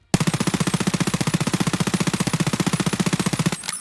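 A P90 loaded with SS190 rounds fires one long full-auto burst in Escape From Tarkov, a rapid, even stream of loud shots lasting about three and a half seconds before cutting off abruptly.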